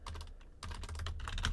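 Typing a command on a computer keyboard to set up a Raspberry Pi, a quick close burst of crisp key clicks with a brief pause, alone.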